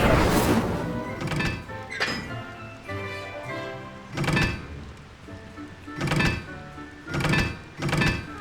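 Spell casting in the wizarding game Hogwarts Legacy, where the Incendio fire spell is cast: a series of bright, whooshing bursts over a musical backdrop, several evenly spaced strong hits toward the end, no talking.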